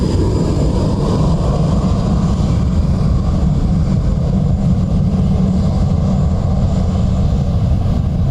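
A Turkish Airlines Airbus A330 from Istanbul passes at Dublin Airport with a loud, steady, close engine roar that holds for the whole stretch.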